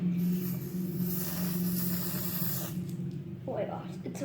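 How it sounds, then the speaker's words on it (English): An aerosol can of air freshener hisses in a sustained spray into homemade slime, close and steady for several seconds before tapering, with a faint rattle near the end. "I think you should also add a little bit of air conditioner, like some spray of air conditioner"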